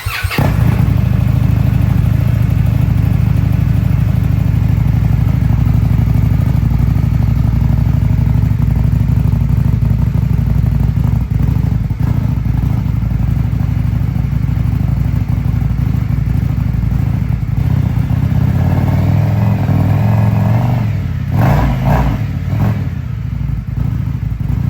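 Indian Scout 101 motorcycle with its stock muffler idling and being revved, a loud, steady low engine rumble with swells of throttle toward the end, close up with no talk.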